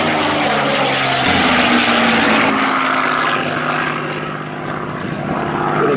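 WWII propeller fighter aeroplane built at Castle Bromwich in 1944, flying at the Warbirds over Wanaka airshow, its engine a loud steady roar that swells and dips slightly as it passes.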